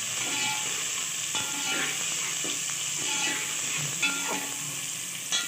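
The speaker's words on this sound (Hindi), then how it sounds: "अब इसको फ्राई करूँगी।" Two medium onions fry in oil in a pan for arhar dal khichdi, giving a steady, even sizzle and hiss with faint stirring scrapes throughout and no speech.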